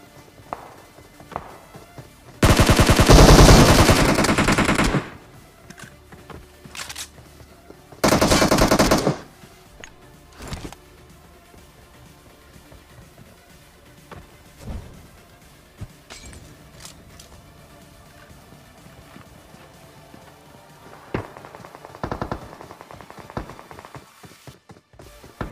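Automatic gunfire in the Battlegrounds Mobile India battle royale game, two loud sustained bursts early on, then scattered single shots, footsteps and small clicks, with quieter shots near the end.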